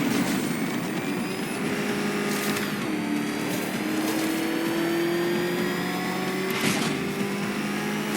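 Batmobile engine in Batman: Arkham Knight, a sustained mechanical roar with rising revving tones and a couple of sharp bursts, steady and moderately loud with no voices.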